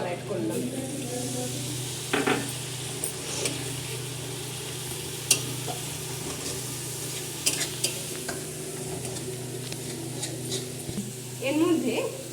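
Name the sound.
water added to frying spice masala, sizzling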